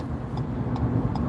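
A car cruises steadily at the speed limit on a motorway between Penrith and Keele services, with a constant low engine and road rumble filling the cabin and faint periodic ticks on top.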